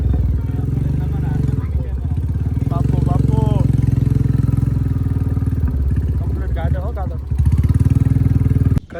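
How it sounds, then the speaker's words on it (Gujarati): A motorcycle engine starts and idles close by with a steady throbbing chug, while people talk over it throughout. "જો ભાઈ પેલું બાઇક ચાલુ કરે છે"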